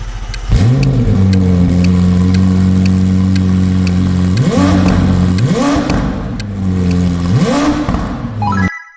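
A McLaren 720S engine revs hard three times in a row, each surge rising and then falling back to a steady drone. The sound is loud and close, with no talking over it.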